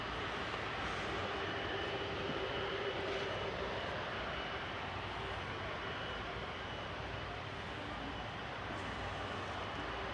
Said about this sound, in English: Got our first 757 of the day coming in.